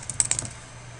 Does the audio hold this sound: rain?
no